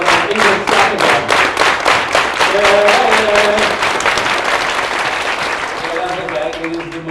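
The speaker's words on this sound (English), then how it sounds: "English clap again" Audience at a live city event clapping again, fast rhythmic group claps that blur into steady applause and gradually thin out, with a few voices talking and calling over the hands.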